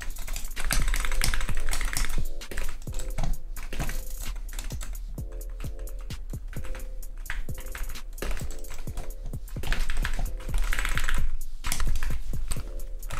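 Rapid, steady keystrokes on a Wooting 60% keyboard with 0.1 mm actuation, dense clacking taps close up and continuous throughout, over a low background hum.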